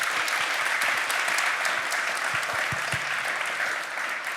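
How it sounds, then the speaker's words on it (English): Audience at a PyData Amsterdam conference applauds a speaker at the end of a talk about building a data platform, with sustained dense clapping that holds steady and then tapers slightly. "give one final applause for Rodel van Rooijen"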